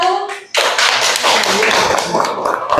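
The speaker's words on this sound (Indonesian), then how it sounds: "tepuk tangan untuk kelompok" Classroom applause for a student group after a presentation, a sudden broad burst of many hands clapping that starts after a short pause and continues steadily and fairly loud, with voices mixed in.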